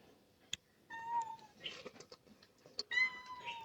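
A cat meows twice, close and clear, with a few soft clicks and taps around the calls.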